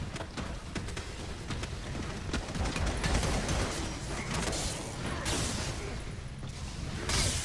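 An elevator moves in Warhammer 40k Eternal Crusade, giving off a continuous mechanical grinding and creaking rumble with ratcheting clatter that stays fairly loud throughout.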